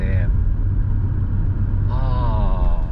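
A manual car accelerates and shifts from second to third gear: a steady low engine rumble, then a rising harmonic engine note that climbs again after the shift, with a voice speaking over it.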